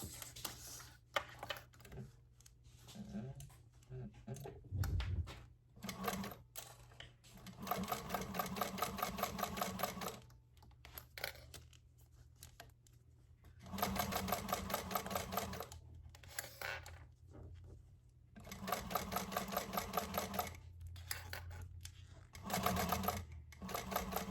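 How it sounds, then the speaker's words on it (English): A sewing machine top stitching along the edge of an appliqué bag, running in several steady stitching bursts of a few seconds each, separated by brief pauses, close and fairly quiet. "now I'm just going to top stitch along the edge"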